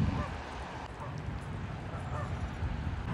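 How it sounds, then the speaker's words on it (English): Geese on the water of the Menominee River in the rain, honking repeatedly against a steady wash of river current and rain noise. "Got some geese enjoying the water and the current over by little diver boys over there"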